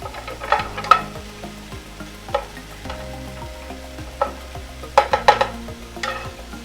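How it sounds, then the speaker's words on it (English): Baby bella mushrooms, ginger and scallion sauté in a pan, a steady close sizzle broken by bursts of scraping and stirring, with no talk. "So in this were the baby bellas, the ginger, and the onion, or scallion. And so I am to saute this up."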